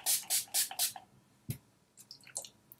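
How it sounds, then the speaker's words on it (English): Urban Decay setting spray is misted over a made-up face in four quick, close, hissing spritzes, followed by faint scattered ticks and small wet sounds. "I'm just going to lock that all in with my Urban Decay setting spray"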